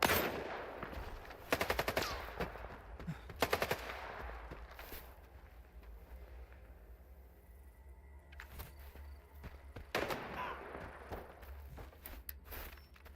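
Enemy gunfire in the S.T.A.L.K.E.R. 2 video game, loud rapid automatic bursts early and again near the end, with quieter game ambience and scattered shots between.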